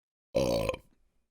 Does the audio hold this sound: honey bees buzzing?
no